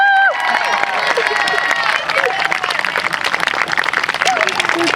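A high school graduation audience for the class of 2020 in Monticello, New York, applauding and cheering in a dense, continuous wash, mixed with overlapping voices.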